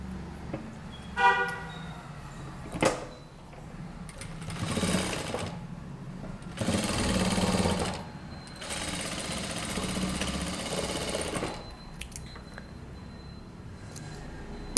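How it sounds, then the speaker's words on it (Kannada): A sewing machine runs top-stitching along a folded kurta neckline in several short bursts of close, steady mechanical whirring, with pauses between runs and a few sharp clicks or taps. "ಸೊ ಇದನ್ನು ಹಿಂಗೆ ಫೋಲ್ಡ್ ಮಾಡಿ ಇನ್ನೊಂದು ಟಾಪ್ ಸ್ಟಿಚ್ ಹಾಕಬೇಕು."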